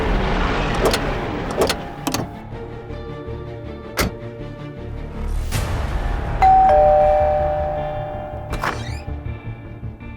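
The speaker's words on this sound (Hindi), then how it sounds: "अभी थोड़ी देर पहले डोरबेल बजी थी तो मुझे लगा अल्पेश आ गए।" A doorbell chimes in a drama scene, with several sharp ding tones spread across the stretch over a steady background hum and a sustained tone near the end.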